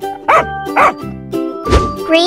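A dog barks four times in quick, yappy bursts, close and loud, set against a light instrumental tune in a children's animal painting game.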